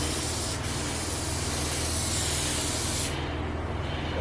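Spray gun hissing steadily as paint is laid onto door panels for a 1966 Falcon wagon, a loud continuous close-up spray that drops off slightly near the end.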